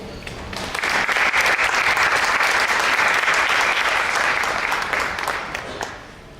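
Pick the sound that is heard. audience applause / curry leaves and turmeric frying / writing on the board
audience applause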